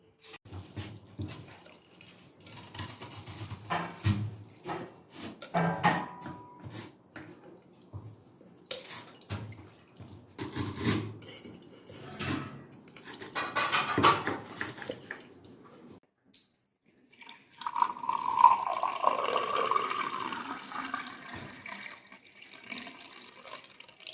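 Kitchen sounds while a freshly ground remedy mixture is strained: clinks of a vessel and utensils, then liquid pouring and dribbling through a strainer, intermittent and close with quiet gaps.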